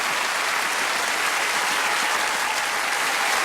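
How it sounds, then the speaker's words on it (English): Studio audience applauding at the close of a British hidden-camera TV show, a dense, steady wash of clapping that stays loud and even throughout. "Give them both a round of applause."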